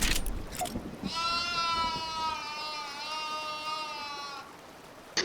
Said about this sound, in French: Et la danse du loup-garou, quand je l'ai fait, elle a fait un bruit de chèvre.